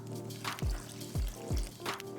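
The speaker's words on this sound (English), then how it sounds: "what I'm adding to that flour is 380 grams of water straight from the tap" Tap water pours into a bowl of flour in several short splashing bursts, close and fairly quiet, with a steady low hum underneath.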